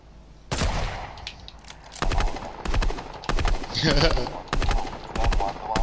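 Rapid bursts of video game gunfire aimed at an opponent's cover come in several loud, closely spaced volleys, with a player's voice talking over them.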